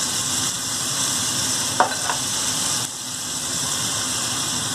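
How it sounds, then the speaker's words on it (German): Turkey breast seasoned with garlic, pepper and Tabasco fries in a pan, giving a steady sizzle with a couple of brief scraping clicks partway through and no talking. "Und brate ich jetzt die alle zusammen."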